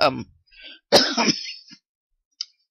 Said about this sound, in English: This cough is driving me crazy